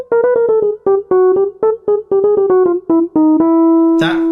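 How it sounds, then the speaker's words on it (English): The circus march Entrance of the Gladiators: a bright, staccato lead melody that moves chromatically up and down in quick repeated notes and ends on a long held tone. It sounds clear, loud and close. "is The Entrance of the Gladiators, which you probably know best as the circus music."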